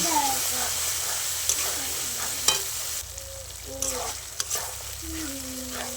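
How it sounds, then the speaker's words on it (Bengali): Spice paste with salt, turmeric, cumin and chopped onion sizzles loudly in a pan while being stirred, a dense frying hiss with scraping spoon knocks and a few voices in the background. "বাটা মশলাটা দিয়ে দিলাম। দিয়ে লবণ, হলুদ সব কিছু দিয়ে মশলাটা ভালো করে কষিয়ে নেব।"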